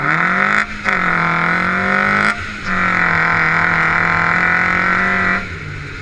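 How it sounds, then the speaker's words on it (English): A T2 Trooper off-road vehicle drives at about 30 mph, its engine producing a loud, steady, close drone that briefly dips three times as if shifting gears. "we're going to come back about 30 miles an hour and jump off this little ledge over here"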